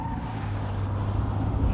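A heavy Pontiac Bonneville SSE with upgraded suspension runs through cones on a skid pan, its engine a steady low droning hum that holds close and even throughout, with a faint rise toward the end.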